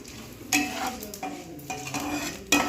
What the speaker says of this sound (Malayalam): ഇതിനകത്തോട്ട് ഞാൻ ഇഞ്ചി കഷ്ണവും കൂടി ഇട്ട് മൂപ്പിച്ചിട്ട് ഇഞ്ചി വേറെ മാറ്റി വയ്ക്കും